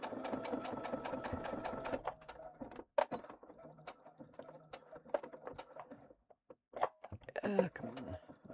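A domestic sewing machine stitching in a steady rapid run for about two seconds, then shorter stop-start bursts of stitching with pauses and small clicks, close and moderately loud.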